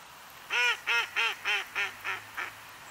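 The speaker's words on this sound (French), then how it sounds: "Le canard colvert fait partie de la cinquantaine d'espèces de canards de surface." A mallard duck gives a series of seven nasal quacks in a steady descending rhythm, close and clear over a quiet background.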